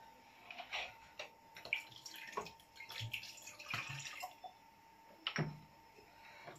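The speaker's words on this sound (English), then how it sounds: "I put water on the potato." Water is poured onto potatoes in a cooking tray, making soft splashing and trickling with scattered clinks and taps, fairly quiet and close.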